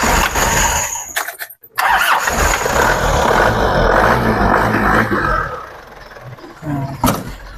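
A 1999 Isuzu Panther Royal diesel engine cranks briefly, catches after a short pause, and settles into a loud, rough, clattering idle close by.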